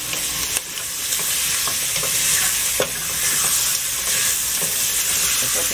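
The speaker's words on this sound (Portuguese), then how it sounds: "Vamos botar nosso feijãozinho no fogo." Beans seasoned with garlic and salt sizzle steadily in a hot pan, a dense, close frying hiss broken by a few soft stirring clicks, with no talking.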